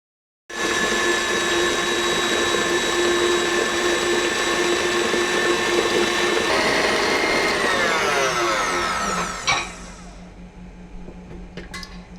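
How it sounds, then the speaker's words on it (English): Electric hand mixer beating a passionfruit ice cream mixture in a mixing bowl, a loud steady motor whine with no talk, its pitch dropping as it winds down near the end before going quiet. "I'm going to add this into the mixing bowl again and going to beat this about 5 minutes"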